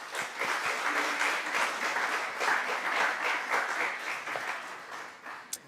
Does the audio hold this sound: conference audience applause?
yes